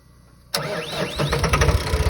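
A car engine cranks and catches abruptly during a driving lesson in Afghanistan, then settles into a steady, close idle with a few revving surges.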